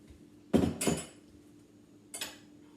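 A utensil scrapes and knocks against a bowl while stirring a mixture of dissolved pink Himalayan salt liquid, giving two close clinking strokes followed by a softer third a moment later.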